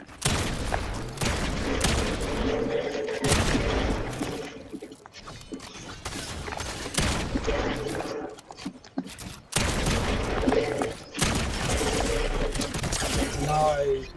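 Bursts of rapid gunfire crack out in a one-on-one video game match, loud repeated volleys separated by short pauses, with a player's voice talking over parts of the action.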